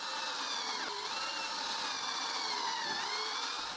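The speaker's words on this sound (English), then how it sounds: "I drill 4 guide holes, making sure I don't drill the table leg." A power drill bores guide holes through wood pieces clamped around a clamp jaw for a homemade Moxon vise, a faint, steady whirring grind with no talk.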